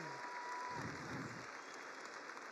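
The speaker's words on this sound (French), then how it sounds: "vous pouvez l'applaudir" Faint, distant applause for climber Lynn Hill in a French interview setting, a soft continuous patter of many hands beneath a steady background hiss.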